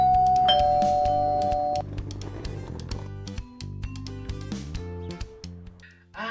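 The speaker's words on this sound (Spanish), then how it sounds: "si suena el timbre, tú puedes contestar" A smart doorbell chimes loudly, one sustained tone at the start, followed by quieter musical tones and intermittent clicks.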